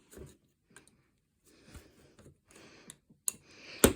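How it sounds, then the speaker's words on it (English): Small plastic parts of a model railway trackside detail kit are snipped from the sprue with a few sharp, quiet clicks and snaps spread across the clip, separated by near silence, close up. "So we're just going to cut this off at every corner."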